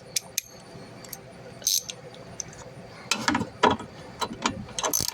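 Ratchet with a long extension turning a rear bolt, giving short bursts of clicking pawl and metallic tool clatter, sparse at first and then busier near the end, close and fairly loud.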